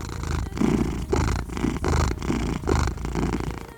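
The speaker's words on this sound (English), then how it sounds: "He's purring." A cat purrs close up, a soft rhythmic rumble rising and falling with each breath, steady and alone.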